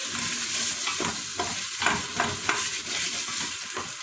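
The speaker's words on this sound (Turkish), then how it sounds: "Şöyle güzel karıştırıyoruz." Barbunya beans' base mixture being stirred and sautéed in a pan for Turkish pilaki, a steady sizzle with repeated scraping strokes of the spoon, close and alone.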